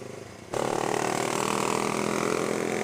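A black Honda CBR motorcycle arriving on a coastal road ride in West-South Aceh, its engine suddenly loud and close with a steady idling rumble after a quiet moment.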